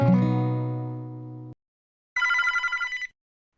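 A telephone rings twice in a Korean drama. First comes a resonant bell tone that slowly fades, then after a short silence a brighter, rapidly trilling electronic ring, close and with no voices.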